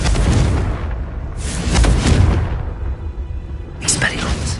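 Explosion from the Confringo blasting spell in Hogwarts Legacy: three loud, heavy bursts, each a deep boom with a crackling tail, separated by brief quieter gaps.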